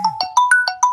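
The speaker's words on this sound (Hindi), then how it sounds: "मेरे भाई का फोन आ गया था" A mobile phone ringtone plays for an incoming call, a loud close melody of short bright tonal beeps in a quick repeating pattern.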